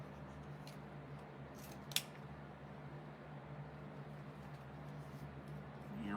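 Scissors snip through decorative mesh while a flamingo wreath is being made, a few quiet cuts with one sharper snip standing out over a steady low hum, no one talking.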